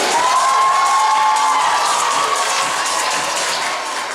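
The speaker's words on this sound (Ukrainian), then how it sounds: "Оплески команди дівчат підтримуємо їх" Loud crowd cheering and applause for a girls' team at a team-introduction event, steady and sustained throughout, with a whistle-like tone drifting through the middle and fading slightly at the end.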